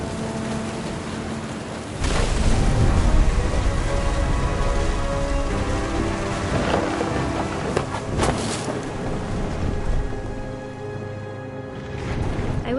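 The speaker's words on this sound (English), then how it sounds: "The thunder sounded much too close and full of angry power" Heavy, steady rain hissing with gusts of wind through a storm in What Remains of Edith Finch, with deep rumbling swells rising near the start and again later, no talk.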